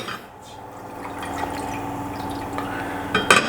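Vinegar, sugar and water being poured into a pan for a chicken recipe, liquid splashing and trickling steadily close by, ending in a brief clatter.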